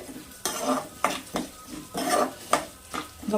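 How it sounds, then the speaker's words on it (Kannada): Cumin seeds and spices dry roast in a pan, with a spoon repeatedly scraping and clinking against the metal in an irregular rhythm over a faint sizzle, close up. "ಇದು ಫುಲ್ಲು ಬ್ರೌನ್ ಕಲರ್ ಆಗೋವರೆಗೂ ಚೆನ್ನಾಗಿ ಹುರ್ಕೊಬೇಕು"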